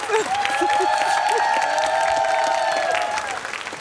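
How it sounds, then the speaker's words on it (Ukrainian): A television game show studio audience applauds and cheers, a loud, dense wash of clapping lasting several seconds, with a sustained musical tone over it and a voice briefly present. "Оплесків в твою честь."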